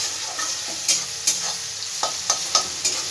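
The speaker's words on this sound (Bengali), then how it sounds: "পেঁয়াজটা একটু ভাজা ভাজা করে নিই।" Onion frying in a pan gives a soft, continuous sizzle. A spatula scrapes and taps through it at a quick, uneven rhythm, close by.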